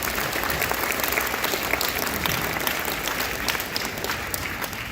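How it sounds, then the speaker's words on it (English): Sustained applause from an audience at a high school assembly honoring the senior class and a boys cross country state championship team, steady dense clapping filling the room at even loudness without pause. "So let's give them a round of applause."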